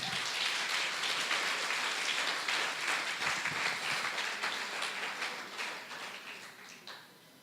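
Sustained applause from a church congregation, a dense wash of clapping that holds steady and then gradually fades toward the end, with no talking over it.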